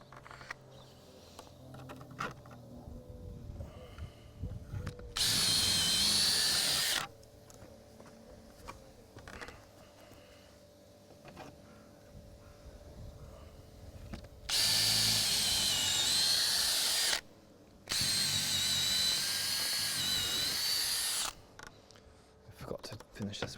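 A power drill bores to full depth through a slate roof tile for solar panel mounting, sounding as two loud, high-pitched whining bursts of a few seconds each over a quieter background of shuffling and handling noise.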